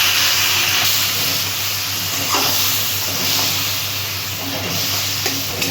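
Water poured into a pan of frying spice paste with Kashmiri chilli powder for chhanar kofta curry, giving a continuous loud hiss and sizzle with faint stirring scrapes.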